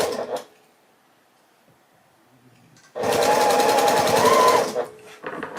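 A sewing machine stitches quilt star block pieces in one steady, close run of about two seconds, framed by quiet handling noises and a brief voice at the start.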